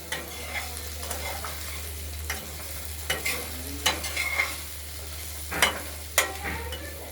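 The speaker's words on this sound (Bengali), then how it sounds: "আবার নেড়ে চেড়ে দেবো।" Chopped spring onions fry in a wok, a steady sizzle broken by repeated scraping, clattering strokes of a spatula stirring them, loud and close with no talking.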